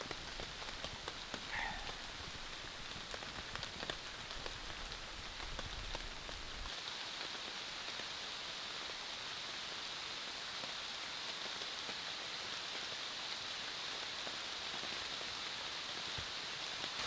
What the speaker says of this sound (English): I guess I got lucky again and got my rainfall.